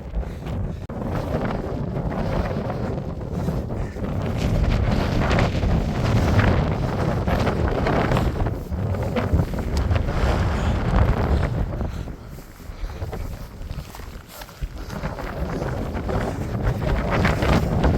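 Strong wind roars across a Pennine fell top in low cloud, a loud continuous buffeting rumble battering the microphone throughout, briefly easing near the middle.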